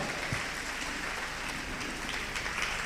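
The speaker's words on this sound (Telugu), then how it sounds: "గట్టిగా చప్పట్లు కొట్టండి, గట్టిగా కొట్టాలి" Church congregation clapping loudly together, a continuous dense wash of hand claps held at steady level throughout.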